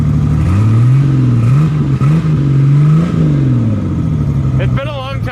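A derby car with its exhaust cut off revs loud and close, the raw engine note rising and falling in several surges before it settles to a rough idle, with a brief squealing sound near the end.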